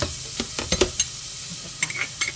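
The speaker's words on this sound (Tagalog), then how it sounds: "Igisa na natin yung bawang, luya." Garlic and ginger sautéing in a pan, a soft steady sizzle with a few sharp utensil scrapes and taps of stirring spaced through the short stretch, close and fairly quiet, no voices.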